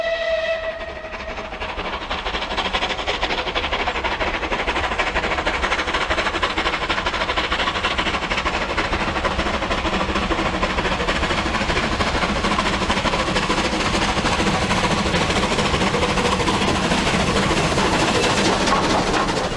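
A rebuilt Bulleid West Country Pacific steam locomotive runs past in a steady, loud roar of motion and rushing noise that holds for the whole stretch, with no voices.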